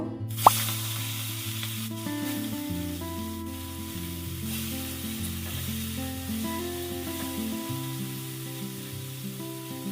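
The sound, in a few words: prawns frying in mustard oil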